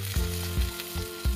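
Eggplant slices frying in a pan, a steady close sizzle with short louder bursts of crackle every half second or so as the pieces are stirred or shifted.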